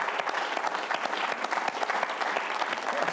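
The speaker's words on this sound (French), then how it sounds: "Je crois qu'on peut encore l'applaudir." An audience at a hidden-camera television show claps steadily, a dense, even burst of applause lasting a few seconds with no one speaking.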